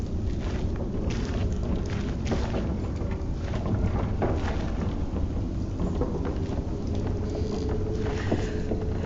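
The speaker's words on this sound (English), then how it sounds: "I hope the storm spares your homes and fields." A thunderstorm with rain in The Pillars of the Earth video game: a steady, dense hiss of rain and low rumbling continues throughout, with occasional faint crackles and no speech.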